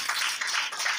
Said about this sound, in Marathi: आपण जोराने टाळ्या वाजवून प्रभू येशूला धन्यवाद देऊया